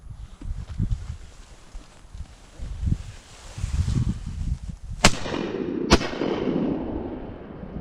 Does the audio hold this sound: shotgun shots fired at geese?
yes